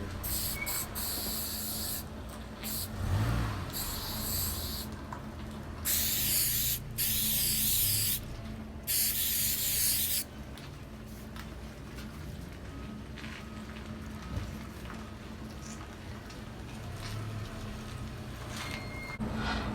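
A can of aerosol spray adhesive hisses in several sustained sprays, one long steady burst and a shorter one, close by, separated by quieter rustling and handling.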